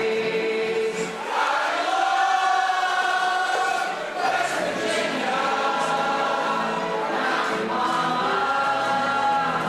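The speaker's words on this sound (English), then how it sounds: "As you just got to hear this crowd right now" A packed crowd at a baseball park during a Barrie Baycats at London Majors game, a sustained broad roar of cheering and voices at a steady level with a few swells, heard throughout.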